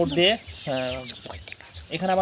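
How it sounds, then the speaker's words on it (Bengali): Broiler chickens clucking in a small home coop, three close bursts of harmonic clucks separated by short pauses, fairly loud and near. "26টা মুরগি আছে"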